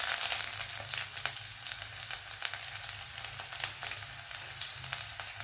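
Onions frying in hot oil with mustard seeds for a Kerala drumstick leaves curry, a dense continuous sizzle with scattered crackles and pops, close and steady, with no voices.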